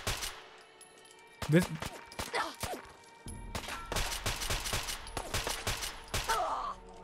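Player's gun firing in Fallout 4 in downtown Boston, scattered sharp shots then sustained rapid bursts, close and loud, with a brief spoken word and groans among the gunfire.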